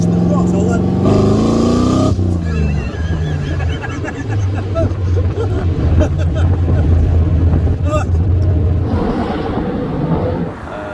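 A loud V8 engine in a 1982 Dutton Phaeton revs up and then settles into a deep, rumbling idle, close to the microphone, with a voice briefly over it.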